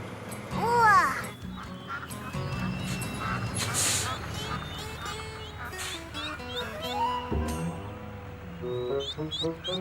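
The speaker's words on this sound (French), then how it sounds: "Tiens, des canards." Ducks quack repeatedly, some near and loud, amid a busy mix of animal calls and a bit of talking.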